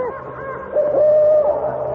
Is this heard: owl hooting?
yes